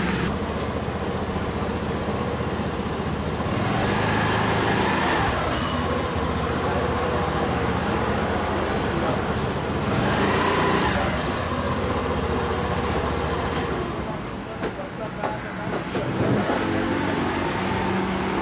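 A CVT scooter, freshly repaired after a gearbox oil seal leak, drives along with a steady engine drone that swells and eases in waves, passing by fairly loud with no speech.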